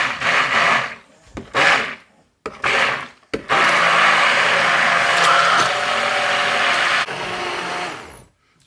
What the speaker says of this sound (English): I'm going to use my immersion blender. I'm just going to put it in and try to beat this up.